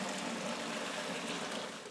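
Vegetable broth from veggie peels and ends pours steadily out of a slowly tipped large pot, a continuous close splashing, trickling rush that holds even for two seconds before easing slightly.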